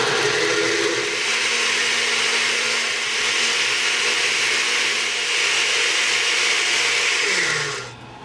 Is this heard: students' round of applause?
no